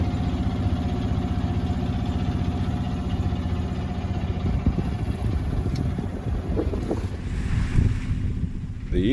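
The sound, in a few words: sailboat rushing through waves in wind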